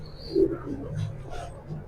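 A racing pigeon gives a soft, low coo, a couple of short close murmurs in a quiet setting.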